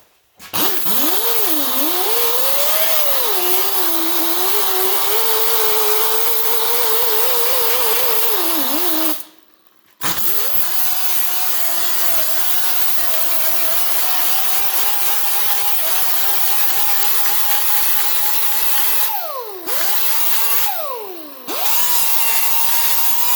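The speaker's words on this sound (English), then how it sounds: "I'm going to finish it all off with a 24 grit. I got changed over the disc on this again" An angle grinder fitted with a 24 grit disc dresses welds on sheet metal, a loud sustained whine that rises and dips in pitch under load, cutting out briefly twice before spinning back up.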